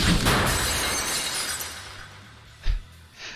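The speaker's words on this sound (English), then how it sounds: "A sharp sound like glass shattering rings through the air" Glass shatters as a sharp sound effect in the visual novel 9-nine-, a loud bright crash that decays over a few seconds, followed by a brief low thud and a faint later tinkle.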